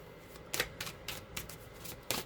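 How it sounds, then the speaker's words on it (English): A deck of tarot cards being shuffled by hand, close riffling and sliding card bursts repeating several times at a steady pace, no talking. "get a good shuffle"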